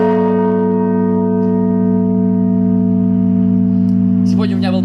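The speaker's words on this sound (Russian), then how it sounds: "И здесь самый большой колокол 4 тонны весит." A 4-tonne church bell, the largest at a temple in Samara, sounds one long, loud sustained toll, its deep hum and overtones ringing steadily throughout, with a brief voice near the end.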